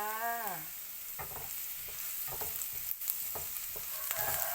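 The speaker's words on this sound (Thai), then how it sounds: "ผัดหมูบดใส่บล็อกครี" Minced pork and broccoli stir-fry in a pan for a breakfast dish with egg, giving a steady close sizzle broken by repeated soft scrapes of stirring.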